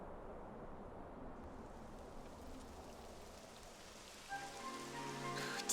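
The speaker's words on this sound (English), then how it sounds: "It would have to go and start raining, wouldn't it?" Steady rain hisses throughout a rainy scene in the video game Dragon Quest 11 S, a dense even patter that swells near the end as a tonal musical chord enters over it.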